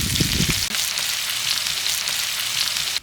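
Chopped onion hits hot oil already holding cumin and mustard seeds and sizzles loudly, a dense crackling fry that continues steadily up close with no voices.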